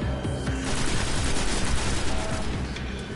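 Sustained automatic machine gun fire in a shooter video game, loud and continuous rapid bursts with heavy booming low end filling the whole stretch, no talk over it.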